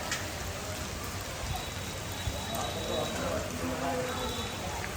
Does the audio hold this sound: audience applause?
no